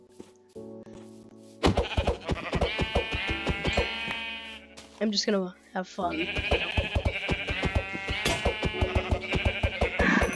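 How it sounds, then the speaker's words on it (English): Sheep in Minecraft bleat through the clip, with harmonic calls repeating over game sounds while a person talks. "Oh, sheep. Sheep, sheep."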